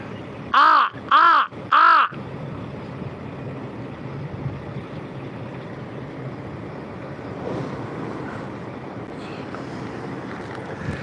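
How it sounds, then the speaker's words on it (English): Three loud, close crow caws in quick succession open the scene, followed by steady outdoor wind noise with a faint distant vehicle. "I got 3 of my crow buddies up here watching."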